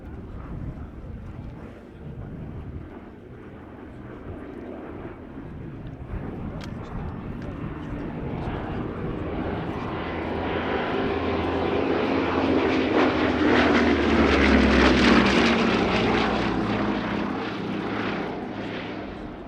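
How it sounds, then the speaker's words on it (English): A Bristol Blenheim IF twin-engine aircraft flies a solo display at the Shuttleworth airshow, its propeller drone building from a distant hum into a loud close pass before slowly fading. "And so, first in for its solo, the Blenheim 1F."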